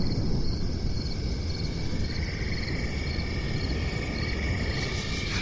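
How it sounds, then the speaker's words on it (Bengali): Crickets in a roadside jungle trill continuously in layered, pulsing tones over a heavy low rumbling background that persists throughout. "রাস্তার পাশ দিয়ে জঙ্গল থেকে ঝিঝি পোকার এক টানা ডাক"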